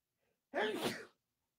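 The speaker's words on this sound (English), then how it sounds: "even my sneeze is on Facebook" A single close, loud human sneeze bursts out after a moment of near silence, sharp at the start and then trailing off quickly.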